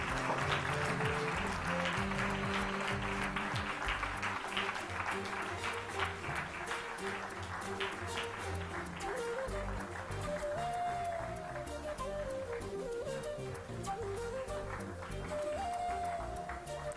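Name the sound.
audience applause for the team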